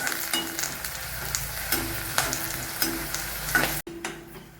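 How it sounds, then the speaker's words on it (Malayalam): Vegetables with curry leaves sautéing in a pan for vatha kuzhambu, a steady close sizzle broken by scraping stirs and a few sharp ticks, ending with a brief clatter and a short pause before the frying resumes. "നന്നായിട്ട് വഴണ്ട് വരട്ടെ."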